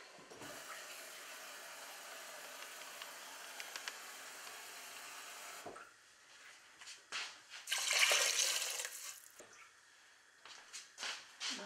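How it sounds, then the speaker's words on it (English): Water pours steadily into a cooking pot for chicken soup, a close, even splashing stream for several seconds, then stops and gives way to scattered drips, clinks and a brief final splash. "adding the water now"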